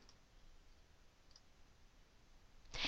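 Mouse clicks on the Open button of the Photoshop Start screen: faint ticks over a quiet room hiss, ending in one louder, sharper click burst.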